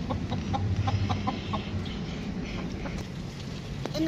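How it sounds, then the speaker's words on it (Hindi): Hens in a rainy backyard coop cluck in short, soft, scattered bursts over steady background rain, faint and close. "अभी जो मेरी मुर्गी है ना वो बारिश की वजह से छुपी हुई है"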